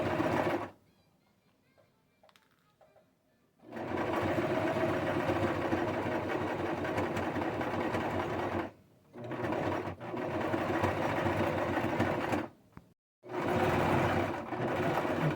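A sewing machine stitches fabric for a face, neck and ear warmer, a fast steady mechanical whir in three long runs separated by short pauses, near and loud.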